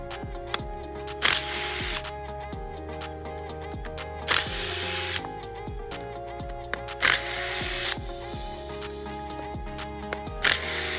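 Power tools working loose the screws holding a fridge compressor motor during copper recycling, with repeated short whirring bursts spaced a few seconds apart, close and clear, with no talking.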